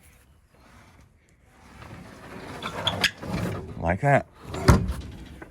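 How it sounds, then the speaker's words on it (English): An old wooden door in a century-old farm barn is shut, giving mechanical clunks and rattling knocks with a firm bang near the end, close by, with someone speaking briefly over it. "somebody just around the corner can shut the gate or shut the door"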